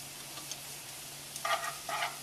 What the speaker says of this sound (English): I'm going to go ahead and saute the diced mushrooms that will go into the rice.